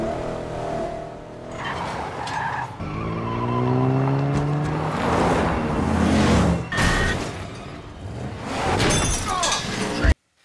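A car crashes into a tree during a chase in the horror film Wolf Creek 2, with screeching, a loud impact and breaking glass over a dramatic score, ending in a sharp final hit before sudden silence.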